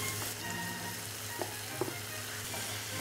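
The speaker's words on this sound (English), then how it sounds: "So just give this a quick stir" Butter beans, chillies and peppers frying in butter and oil in a pan, giving a steady soft sizzle with a couple of faint scraping stirs, no talking.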